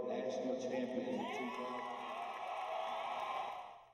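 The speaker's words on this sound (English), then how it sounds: "all that cheering was generated by the same exciting realization" A large crowd of UNC Tar Heel basketball fans at the Smith Center cheering and shouting for their national champions, a sustained roar that fades toward the end.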